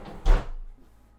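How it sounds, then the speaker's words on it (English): A bathroom door opens with a single dull thunk followed by a brief fading rattle, close and fairly loud, then quiet room tone. "Let's get this bathroom door open."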